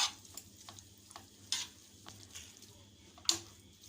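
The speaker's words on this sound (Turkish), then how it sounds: "Tamam karıştırdım." Rice being stirred in a pot for Korean jumeokbap, soft scraping and ticking strokes of a spoon at an irregular rhythm, close and quiet with no talk.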